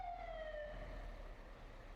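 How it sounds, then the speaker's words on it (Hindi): Fire brigade trucks in Istanbul sound a wailing siren that sweeps down in pitch, fairly distant and faint over steady low traffic rumble. "पुलिस भी है यहाँ पे और ये फायर ब्रिगेड भी आई हुई है काफ़ी सारी।"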